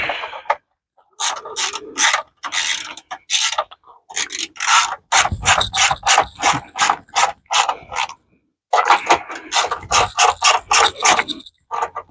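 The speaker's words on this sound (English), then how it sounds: "let's tighten this clamp bolt back up" A ratchet tightens the battery clamp bolt on a Honda Accord, giving close, repeated clicking bursts of rapid strokes separated by short pauses, with no talking.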